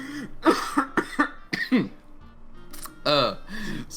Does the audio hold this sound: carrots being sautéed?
no